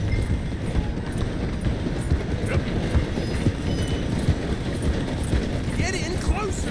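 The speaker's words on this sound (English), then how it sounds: "The train is slowing down to go through the station." A train slows through a station in Red Dead Redemption 2, with rhythmic clattering of wheels on rails and hooves of galloping horses alongside, and voices calling over it.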